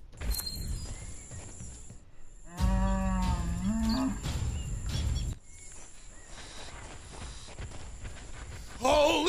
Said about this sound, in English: Actually, those are buffalo.